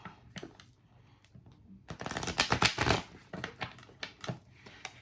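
Tarot cards are shuffled in quick crisp riffles and flutters, close and fairly loud, with a dense burst in the middle and lighter handling around it.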